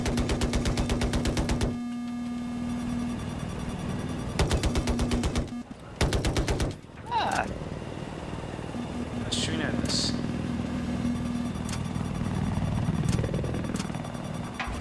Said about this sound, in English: Okay, somebody's shooting at us.